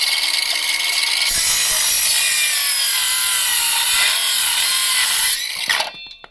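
Ronix cordless circular saw cutting half-dry oak, a loud steady high-pitched blade whine through the wood for about five seconds, then the motor cuts out and spins down abruptly.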